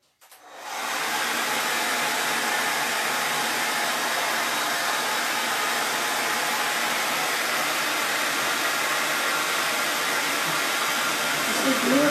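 A heat gun blows steadily while warming glue on a craft item, a continuous broadband hiss-like roar that starts after about a second and holds at even loudness throughout.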